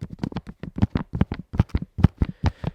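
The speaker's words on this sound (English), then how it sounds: "That's the sound the upper on the shoe makes." Crisp crinkling of the upper material on an On Cloudboom Strike running shoe, a series of short, close, dry rustles in an uneven rhythm, heard alone.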